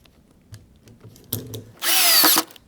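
A power drill drives screws for the wheels of a model railroad benchtop layout, with light handling clicks first, then a short trigger blip and a loud whirring run of about half a second that winds down.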